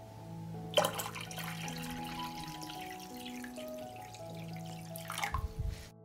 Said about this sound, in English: Pour water up to the height of the lid.